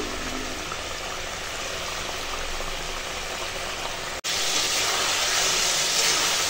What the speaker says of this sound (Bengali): দেখো এখন ঝোলে জাল উঠে গেছে আর এই ভেজে রাখা মাছ দিয়ে দিলাম।